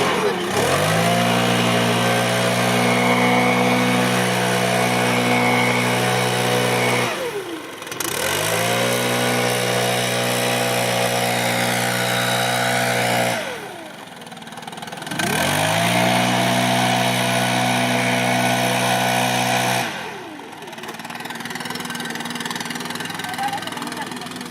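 A petrol-engine leaf blower, used for clearing debris from a racetrack, fires up and runs loudly with steady harmonic drone, revving up and easing off in several surges separated by brief drops, with people talking nearby.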